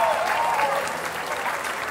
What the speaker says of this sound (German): macht mal einen fetten Applaus für unsere Techniker da vorne